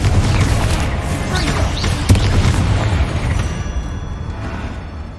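Loud, dense booms and bursts of spell explosions from Confringo casting in the video game Hogwarts Legacy, with one sharp blast standing out midway over a continuous rumbling barrage that tapers off slightly toward the end.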